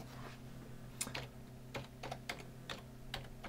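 Typing on a computer keyboard up close: irregular, quiet key clicks and taps in short bursts against a faint hum.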